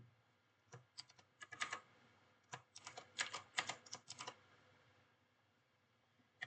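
Fingers type on a computer keyboard in quiet irregular clusters of close, crisp key clicks with short pauses between bursts.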